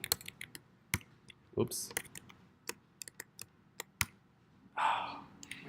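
Typing on a computer keyboard while coding a Rails app, with sharp scattered clicks and short bursts of key presses in an irregular rhythm, close and clear, and a brief spoken exclamation partway through.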